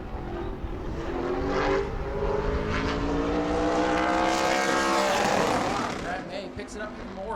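A super late model race car laps the track during qualifying at New Smyrna, its engine note rising and sweeping past loud and close before fading, while a commentator talks over it.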